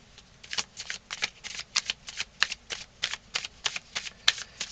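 Tarot cards being shuffled for a reading, a steady run of crisp riffling bursts about twice a second, close and clear with no talking.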